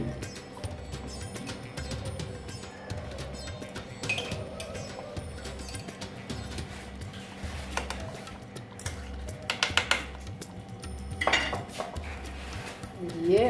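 A spoon stirs paneer butter masala with ghee in a pan, making repeated rhythmic metal scrapes and taps over a low steady hum, with a few sharper clinks toward the end.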